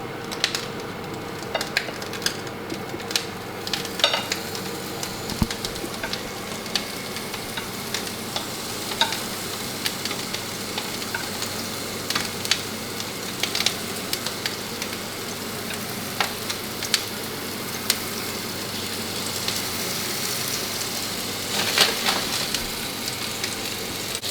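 Meatballs searing in a hot pan, a continuous loud sizzle and crackle with scattered sharp pops and occasional utensil clicks throughout.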